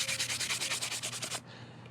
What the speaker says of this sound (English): So it's a little wet sanding